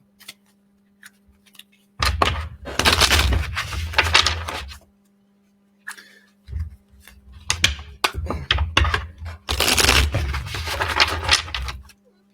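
Tarot cards shuffled by hand in bursts of dense, crisp riffling and flapping, close and fairly loud, separated by short quiet gaps and a few lighter taps.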